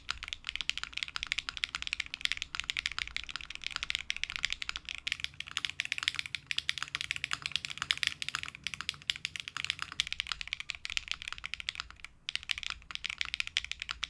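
Fast, continuous typing on a heavy Neo AT-CU mechanical keyboard built foamless with an acoustic chamber, close and crisp with rapid clacky keystrokes and no voices.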